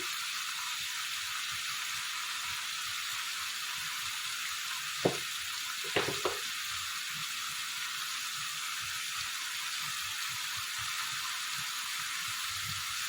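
Turmeric and chili powder fry in oil for chicken gravy, a steady, fairly faint sizzle running throughout, broken by a few soft clinks and scrapes of stirring in the middle.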